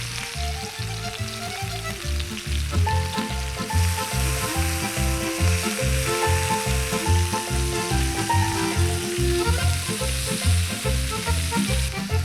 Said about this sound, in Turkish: Bir parçacık daha yağ ekliyorum. Biberlerimi, soğanlarımı yerleştiriyorum.